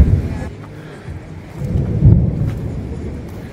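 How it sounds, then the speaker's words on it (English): A passing thunderstorm gives deep rolling thunder rumbles, swelling loud near the end, over a soft bed of rain and wind with no talking. "Got a good thunder boomer going through."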